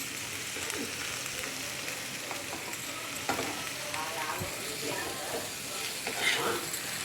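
Food sizzles steadily in a hot pan while it is stirred, with scraping and clinking bursts over a constant frying hiss; voices talk nearby now and then.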